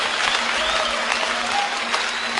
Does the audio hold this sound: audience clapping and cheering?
yes